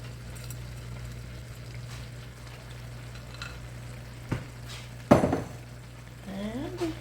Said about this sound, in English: And let's get it stirred up.